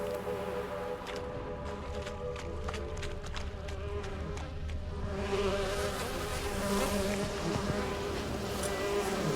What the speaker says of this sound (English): Get you gone, bees.